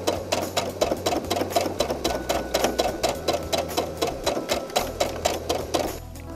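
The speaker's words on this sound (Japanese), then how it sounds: "この上下を端ミシンしていきます。" A sewing machine runs along the edge of a handmade fabric mask in rapid, even bursts of stitching, loud and close, with a brief pause near the end.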